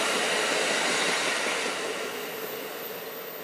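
An Amtrak train rolls past trackside as a broad, steady rushing roar with wheel hiss that slowly fades as it moves away, with no talking.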